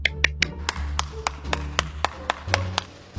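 A single person claps hands in a slow, steady rhythm, about a dozen sharp, close claps spaced evenly apart, with a low background hum and little talk.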